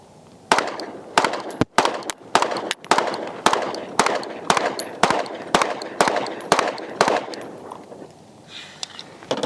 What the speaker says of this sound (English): we got Landon up, first rounds, P365 AXG Legion